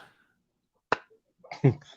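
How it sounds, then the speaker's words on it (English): A slow clap attempted by a person on a podcast call: a single sharp hand clap, then a few soft thuds and a short burst of voice close by. "I was trying to slow clap"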